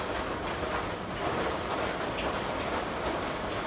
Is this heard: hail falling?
yes